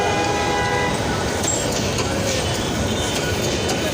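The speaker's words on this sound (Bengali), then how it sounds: "আজকে দীর্ঘ সময় ধরে ট্রেন দেখলাম" A train on a North Bengal rail line passes close by, a loud continuous rumble and clatter of wagons with faint metallic squeals, no talk over it.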